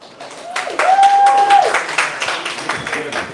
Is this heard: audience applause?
yes